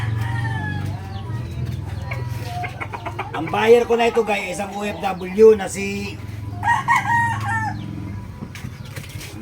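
Chickens and a crowing rooster, fighting cocks bound for Bicol, sound in the background while someone talks throughout; a few louder calls rise over the speech midway.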